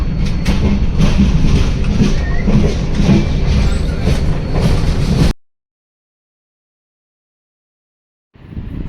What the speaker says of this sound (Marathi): आपली ट्रेन रत्नागिरी स्टेशनला पोचते